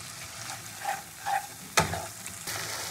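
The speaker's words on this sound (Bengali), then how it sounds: "এবার আমি এই মশলার কষানোর মধ্যে জিরের গুঁড়ো আর কাশ্মীরি মির্চটা দিয়ে দেবো" Masala with cumin powder and Kashmiri chilli sizzles in a pan as a spoon stirs and scrapes, with a few clinks and a sharp knock against the vessel, fairly close and without talk.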